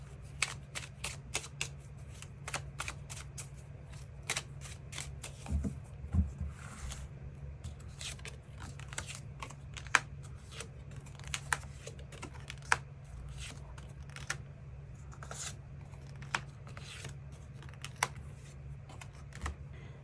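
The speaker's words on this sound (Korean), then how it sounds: "그 부분 추가 카드 뽑아보도록 하겠습니다" Tarot cards are shuffled and drawn, giving dense, crisp riffling and flicking that repeats quickly and close up for the whole stretch, with no talking.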